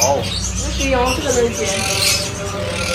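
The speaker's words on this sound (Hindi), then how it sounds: "वाओ ये भी तोते हैं" Parrots at an animal and bird market in Sharjah chirp and squawk in bursts close by, with a voice and market bustle around them.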